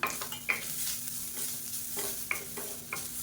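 Grated coconut sautéing in ghee in a pan, with soft continuous frying hiss and several quick spatula scrapes and clicks against the metal, close up and without speech.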